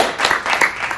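A talk-show audience applauds as a costumed guest, the Ghost of Christmas Future, is welcomed on stage, a short, dense burst of close clapping.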